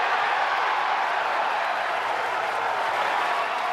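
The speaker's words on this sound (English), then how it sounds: "You hear that big crowd" A big Rutgers home crowd roars at a Big Ten college wrestling match, a dense, steady wall of cheering and clapping that fills the arena without a break.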